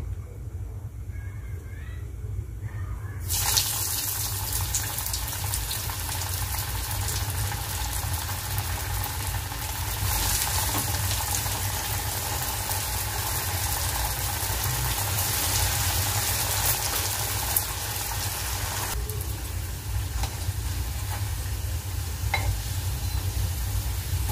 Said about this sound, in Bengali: কড়াতে তেল দিয়ে দিয়েছি, তেল গরম হয়ে গিয়েছে। এবার আমি রোলগুলোকে একটা একটা করে ভেজে নিচ্ছি।